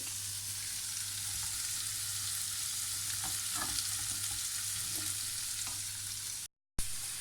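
Prawns sizzle and fry steadily in a pan, a continuous close crackling with small pops and stirring sounds, briefly cut to silence near the end.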